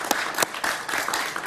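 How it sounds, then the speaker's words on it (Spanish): Studio audience of a Spanish-language TV talk show applauding a guest, a dense, steady burst of many hands clapping close up with no talk over it. "Un aplauso para él, por favor."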